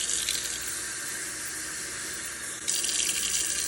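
Tap water pours steadily into a Stanley cup as a bright, continuous splashing hiss, close and alone, with a sudden brighter surge near the end as the flow changes.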